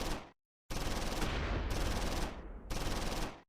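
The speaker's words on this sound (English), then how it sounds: "Skinner is firing at the Panzer." Sustained bursts of machine-gun fire aimed at a German Befehlspanzer tank in the Close Combat 4 Battle of the Bulge game, set at Dasburg in December 1944; two long loud volleys split by short gaps, with no talking.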